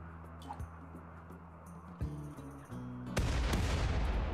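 Gunfire and a grenade blast in the video game RimWorld: scattered shots, then a heavy burst of noise near the end that stays loud.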